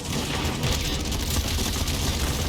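Enemy gunfire in a shooter video game rattles in a dense, continuous burst of rapid shots at steady loudness, with no voices over it.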